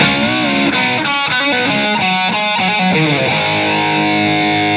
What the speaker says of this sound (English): it's just a little riff that sounds like this